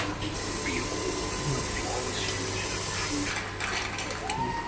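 Running tap water rinsing raw goat brain for a beja fry, a steady broadband splash and flow that continues throughout, close to the microphone, with faint background noise.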